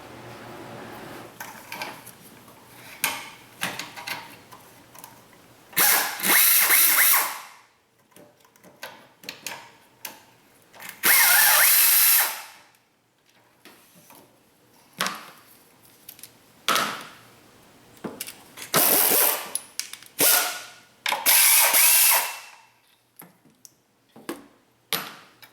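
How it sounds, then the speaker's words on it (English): A long 1/4 inch drive Snap-on ratchet clicks in repeated bursts of quick ticking strokes, close and crisp, with quiet pauses between, during intake manifold work on a Caravan or Town & Country. "Got this real long 1/4" drive ratchet from Snap-on."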